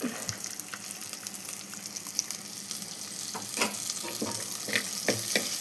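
Onions, curry leaves and dried chillies frying in hot oil, a continuous close sizzle broken by occasional scraping stir strokes and crackles.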